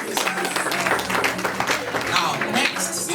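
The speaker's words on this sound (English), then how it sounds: "let's clap for her once again" Applause rises from the crowd at an optometry week dinner for a guest, a dense wash of claps mixed with crowd noise and a steady low hum.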